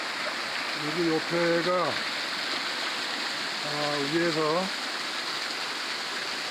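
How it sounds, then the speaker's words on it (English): A hot spring waterfall at Kirkham Hot Springs in Idaho pours in a continuous broadband rush, steady and close, while someone speaks over it in two short phrases. "However, another waterfall provides water massages at a perfect temperature."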